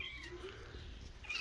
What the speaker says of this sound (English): And we've got a kitty cat.